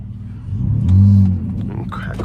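Engine of the FBO 46 car revving during a drive, a low rumbling swell that peaks briefly then settles, heard close alongside a voice.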